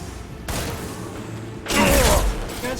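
Gunfire in the video game Mass Effect 2, a dense burst of shots and blasts that swells loudly near the end, with a brief lull before it rises again.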